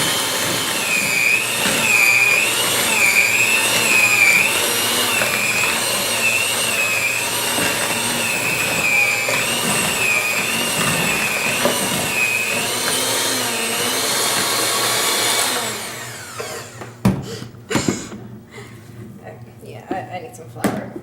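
An electric mixer runs at high speed through cookie dough, a loud steady whine with wavering pitch for about fifteen seconds, then stops and gives way to knocks and clattering handling noises.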